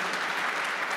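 Audience applause at a journalism panel discussion, a steady dense wash of clapping filling the whole moment, fairly loud and even with no break.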